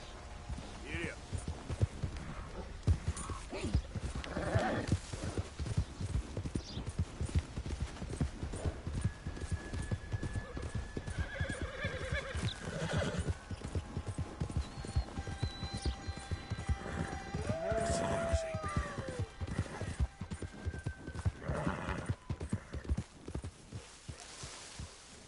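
A horse gallops with rapid, continuous hoofbeats in Red Dead Redemption 2, with an occasional neigh over wind and ambient game noise; a voice urges it on.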